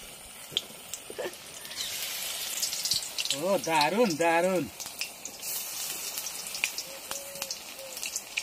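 Eggplant fritters in gram-flour batter sizzle in oil on a boat, a faint continuous crackle under people talking, with one voice briefly exclaiming in the middle.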